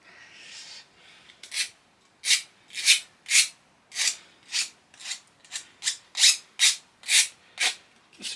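A file is drawn across the cut edges of mild steel to remove burrs, giving about a dozen close, crisp rasping strokes in an even rhythm, each a short bright scrape with brief gaps between.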